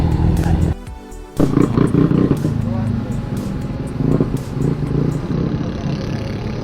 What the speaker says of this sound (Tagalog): Dami nagagas dito guys. Lahat motor.